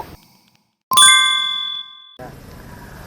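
A notification bell rings once, a bright metallic ding that rings out and decays over about a second, followed by a low electronic hum.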